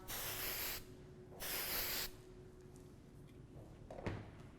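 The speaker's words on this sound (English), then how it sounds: "And now time to spray them all," Aerosol hairspray sprayed over a formal side ponytail decorated with flowers, two long close hissing bursts separated by a pause, followed by a quieter tail with a faint tap.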